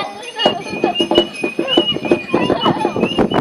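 Horses at a children's day event run by a Sokol club, with rapid clip-clop hoofbeats close by and a brief neigh, mixed with outdoor voices of people talking.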